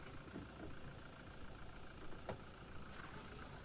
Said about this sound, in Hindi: तो ये था टोयोटा का फेमस जीडी डीजल इंजन।